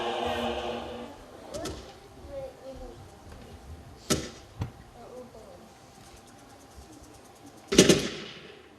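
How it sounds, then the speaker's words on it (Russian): Sharp, sudden gunshot-like cracks ring out a couple of times against a quiet background, with a voice speaking between them. "И выстрел раздался резкий звук"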